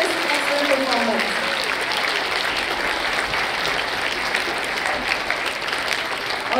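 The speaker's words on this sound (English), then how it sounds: "Give them a big round of applause for giving us this excellent performance" A school audience claps at length after a musical performance of Annie at an anniversary celebration, a broad steady wash of applause with a few voices murmuring near the start.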